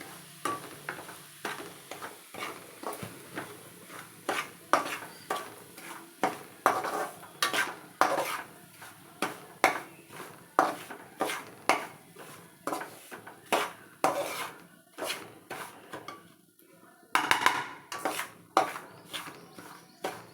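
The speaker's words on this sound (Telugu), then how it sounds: "రవ్వను కొంచెం మీడియం ఫ్లేమ్లో పెట్టి కొంచెం కలర్ చేంజ్ అయ్యే వరకు వేయించుకోవాలి" Bombay rava (semolina) roasting in a pan over a medium flame, with a spoon scraping and stirring in a steady, repeated rhythm, close and moderately loud over a soft, dry sizzle.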